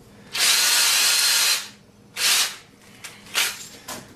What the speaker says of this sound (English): I'm going to stick the drill in the end of it